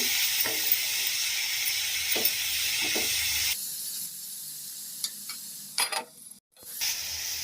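Shredded cabbage frying in a pan for a cabbage-tomato curry, giving a loud, steady sizzle with a few light stirring taps. The sizzle then drops to a quieter hiss broken by clinks and a brief knock.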